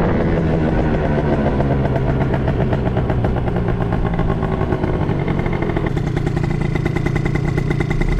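A scooter engine runs loud and close, a continuous throbbing putter that stays steady throughout.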